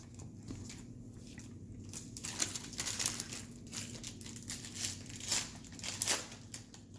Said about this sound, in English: She's opening the silver pack.